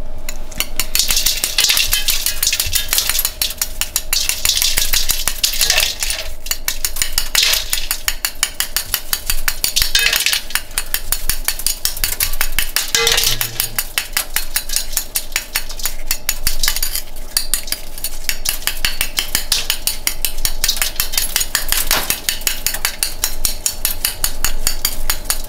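A kitchen knife shaves the four corners of an ice block behind a bar in Takamatsu, Kagawa, giving steady close scraping with quick rhythmic strokes and occasional sharper knocks throughout.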